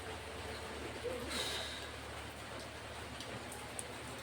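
Steady rain falls outdoors as a faint, continuous patter and hiss, with a few brief sharper drips and a distant chirp standing out over the even wash of sound.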